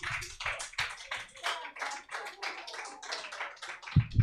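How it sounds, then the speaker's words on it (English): Audience clapping and tapping fills the room after a live comedy show set, a dense ongoing burst of applause with a couple of louder low thumps near the end. "keep it going for Jesse Head, everybody."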